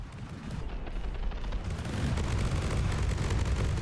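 Rapid fragmentation shells bursting in a From the Depths battleship battle, a dense continuous barrage of booming explosions and crackling gunfire that swells louder toward the end, with no voices.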